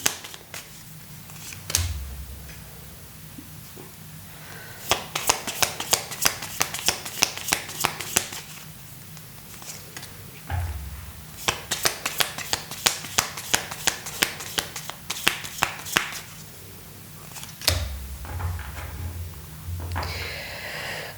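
A deck of tarot cards being shuffled during a reading, heard as two long runs of rapid, crisp riffling flutters, each opened by softer handling and taps, close up with no talking.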